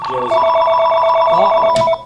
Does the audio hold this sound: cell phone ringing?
yes